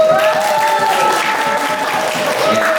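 A school hall audience applauds the five student council chair candidates at a debate, with loud sustained clapping and crowd noise throughout, a voice over the PA faintly audible underneath.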